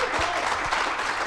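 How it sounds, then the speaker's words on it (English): A crowd claps steadily through a live sports talk show honoring a Green Bay Packers player as new co-host, a dense, continuous wash of applause with no voices over it. "how about a round of applause for our new co-host, Marquez Valdes-Scantling, tonight."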